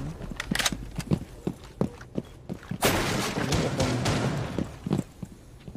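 Muffled gunfire punching through walls in Rainbow Six Siege, a run of sharp shots and then a dense sustained burst in the middle, fairly close and loud, with game ambience around it.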